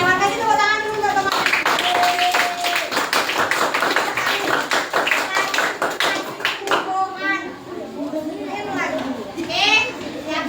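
Schoolchildren clapping hands together in an elementary classroom, a burst of rapid, close clapping with children's voices and chatter mixed through, then talk continuing as the clapping dies down.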